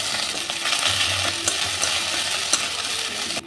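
Ground ginger and green chilli paste hits hot oil in a pan with a loud, continuous sizzle and crackle, close up, with a few faint stirring clinks and no talking.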